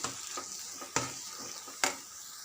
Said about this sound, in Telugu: ఇప్పుడు రుచికి సరిపడా ఉప్పు వేసుకోవాలి అంతా కలిసేటట్టు మంచిగా కలుపుకోవాలి